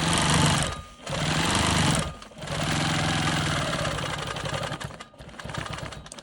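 A sewing machine stitches in the ditch along a quilt block, running in steady, close mechanical bursts with two short pauses between runs.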